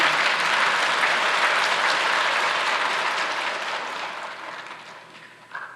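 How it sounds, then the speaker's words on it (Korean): A church congregation at Yoido Full Gospel Church claps during a sermon, a broad wash of many hands that starts full and gradually fades away toward the end. "박수를 쳐주시는 것은 고마운데"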